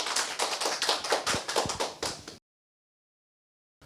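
Audience applause closing a lecture at a peptide cosmetics symposium: dense, steady clapping from a crowd, fairly close, lasting about two and a half seconds before cutting to silence.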